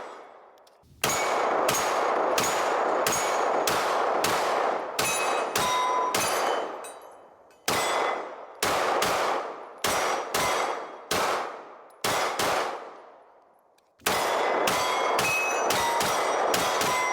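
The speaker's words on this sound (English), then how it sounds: "At some point, you just kind of stop shooting at the steel" Rapid strings of pistol shots from a ported CZ P-10C firing defensive ammunition ring off steel targets, each loud crack followed by a bright metallic clang, in bursts separated by short pauses.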